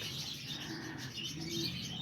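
Pet birds at a pigeon loft housing cockatiels, budgies and lovebirds, with a dense mix of soft chirps, tweets and low cooing going on steadily without any voices.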